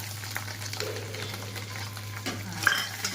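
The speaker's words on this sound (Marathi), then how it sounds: "आता आपण घालणार आहोत कांदा डबू मिरची आणि गाजर" Onion, chilli and carrot go into a pan with fried egg for chicken Hakka noodles, a soft sizzle running beneath light stirring scrapes and the odd metallic tap.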